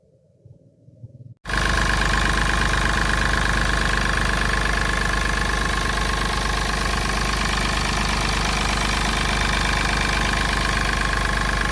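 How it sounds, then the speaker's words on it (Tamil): After a second of quiet, the diesel engine of a Mahindra Bolero SUV starts idling loudly and steadily, a constant rumbling drone close by. "வண்டி என்ஜின் சவுண்ட்லாம் பார்த்தீங்கன்னா ஒரு சுத்தமாக இல்லைங்க சூப்பரான என்ஜின்"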